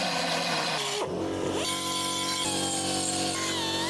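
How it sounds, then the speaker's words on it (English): A belt sander works on a Golf GTI body panel, a steady loud whine near the microphone that dips and shifts pitch as it loads against the metal, continuous for several seconds. "I'm going to belt sand a section at the bottom, and then the same on the other side"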